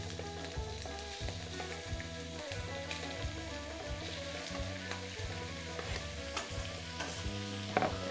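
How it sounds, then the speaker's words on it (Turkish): Beef sizzles and fries in hot olive oil in a heated pot over high heat, a loud, steady crackle with rhythmic stirring strokes scraping through it, no voices. "Haydi bismillah diyor ve dana etini tencerenin içerisine alıyorum."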